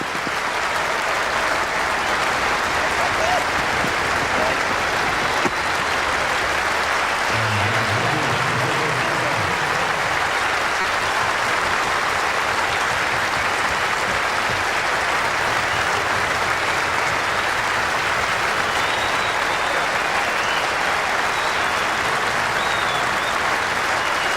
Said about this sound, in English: He's getting a standing ovation from the members